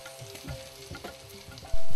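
Food frying in a pan over a firewood fire in a simple outdoor village kitchen in Sri Lanka, a close bubbling sizzle with scraping stirs and a sharp clatter near the end.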